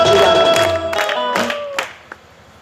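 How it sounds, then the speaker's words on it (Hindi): An audience at a business seminar in Sarsinwa breaks into brief clapping over music, the applause tapering off quickly into near silence. "और उनके लिए एक जबरदस्त ताली चाहिए।"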